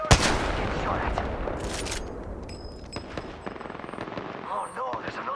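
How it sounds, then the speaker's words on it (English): Rapid automatic gunfire in the video game Apex Legends rattles loud and close at the start, then continues as scattered bursts and shots amid game effects, with a voice talking briefly over it. "Get shot at!"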